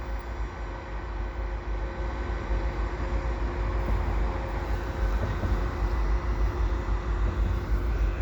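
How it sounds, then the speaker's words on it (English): Low, steady rumble of a westbound CN freight train passing the Dorval ramps on a sunny winter afternoon, a continuous broadband roar that holds even throughout without a clear approach or fade. "So I'm hearing the rumble of a train here at the Dorval ramps."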